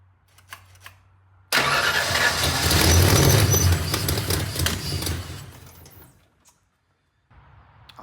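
A car engine with a carburetor cranks and catches after the carburetor is primed with fuel, roaring loudly for about four seconds, then sputtering and dying to silence. A short faint rumble follows.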